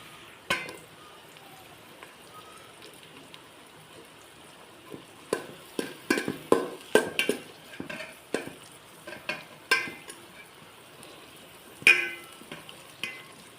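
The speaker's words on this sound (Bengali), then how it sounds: "আমার গাজর আর ক্যাপসিকাম ভাজা হয়ে গেছে" Carrots and capsicum stir-frying in a pan for a vegetable pulao, with bursts of sizzling and a run of spatula scrapes and stirring clatter in the middle, close and fairly loud, with no talk.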